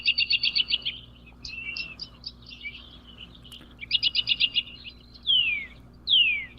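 Small birds singing outdoors, with repeated rapid trilling phrases, sharp chirps and a few descending whistled notes, moderately close and clear over a quiet steady background hum.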